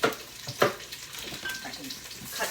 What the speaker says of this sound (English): while these onions are cooking